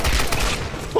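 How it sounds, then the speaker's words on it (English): Machine gun fire in the video game Tomb Raider (2013) rattles in a loud, rapid burst of close shots, cut off by a brief exclamation at the very end. "Holy moly, this is a machine gun!"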